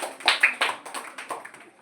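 Hands clapping during a meditation class, about eight to ten claps in a steady rhythm that slowly fade in loudness, close by, with no talk.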